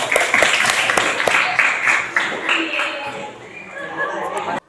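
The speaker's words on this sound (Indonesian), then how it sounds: "Berikan tepuk tangan." Audience applause in a university classroom session, a burst of close clapping from a small group that thins out and fades over a few seconds, with chatter mixed in.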